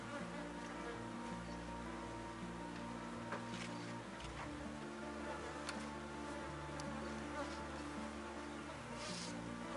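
Honey bees (Apis) buzz steadily around an open hive being split into new colonies, a continuous close insect drone with a low steady hum throughout and no talking.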